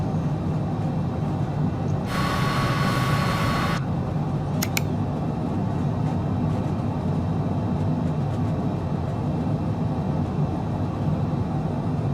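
A MiG-21 Bis jet engine drones in Microsoft Flight Simulator 2020 during touch-and-go practice at Bodo airport, a steady loud roar with a brief higher whine and a couple of clicks partway through, no talking.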